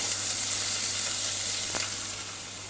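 Onions frying in leftover chicken-frying oil for a chicken curry give a close, even hiss of sizzling with one brief stirring tap, easing slightly toward the end, with no voices.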